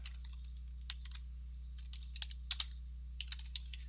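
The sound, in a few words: typing on computer keyboard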